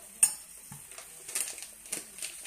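Diced apples sautéing in butter in a pan, with a faint sizzle under a few soft utensil clinks and stirring scrapes, fairly quiet and close.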